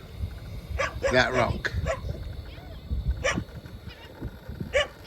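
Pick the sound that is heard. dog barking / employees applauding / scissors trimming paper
dog barking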